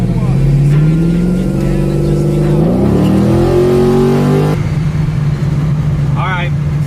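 Procharged LS3 V8 in a Chevy Nova revving loudly up close, rising pitch sweeps climbing then dropping as the engine works through the rev range, steady droning idle afterward with voices talking over it.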